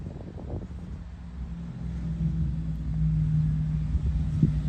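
A lifted Ram TRX pickup with a 3-inch lift, 38-inch mud-terrain tires and wheel spacers drives off. Its engine gives a steady low rumble that builds gradually, heard from inside the cab with no one talking.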